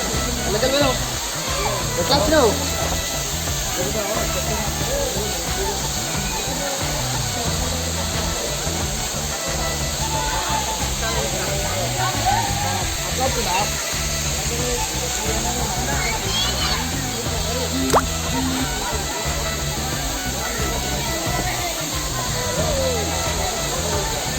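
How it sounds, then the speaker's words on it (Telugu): Constant roar of falling water at Bheemuni Paadam waterfalls fills the scene, with people talking and children shouting over it nearby. "మామూలు వాటర్ ఫాల్స్"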